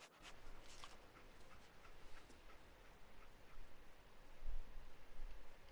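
In Fallout 4, the dog companion snuffles and sniffs softly, with faint whimpers over a low ambient game background, quiet throughout and without speech.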